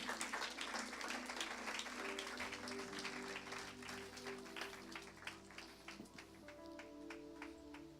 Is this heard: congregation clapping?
yes